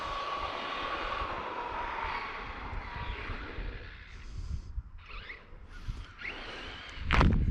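A stock RC car, one of a Traxxas Maxx, Arrma Kraton or Outcast v2, screams past at full throttle on a speed run, the motor whine building then fading as it moves off, with brief louder bursts near the end.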